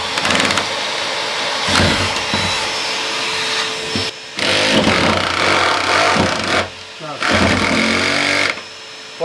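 A drill boring through a metal beam inside a Dodge ProMaster camper van with a shop vac running alongside, a loud continuous whine in long stretches broken by short pauses, with people talking over it.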